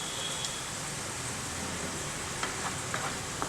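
Cumin seeds sizzle softly in hot oil on a low flame for an Andhra-style tomato dal, a faint, even frying hiss with a few small pops near the end.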